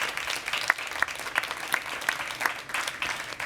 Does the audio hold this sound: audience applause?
yes